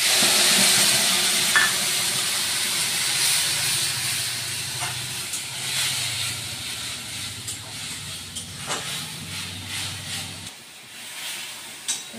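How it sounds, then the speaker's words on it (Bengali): Ground spice paste frying in hot oil in a pan while cooking egg curry, giving a steady loud hiss and sizzle throughout with occasional stirring clicks, no talk. "বেটে রাখা মশলাটা আমি দিয়ে দিচ্ছি।"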